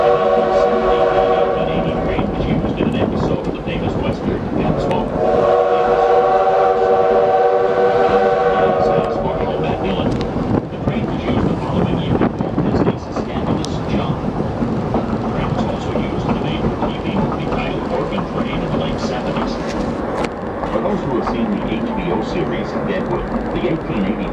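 A heritage steam train on the Black Hills Central Railway rumbles and clanks along the rails, its whistle sounding in long tones, while a voice talks over the running noise.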